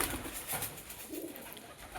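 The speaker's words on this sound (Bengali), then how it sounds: "এই যে সব কবুতর চলে আসছে।" Pigeons coo softly and repeatedly at close range as they gather around scattered feed, low murmuring calls rising and falling with light background noise and no talking.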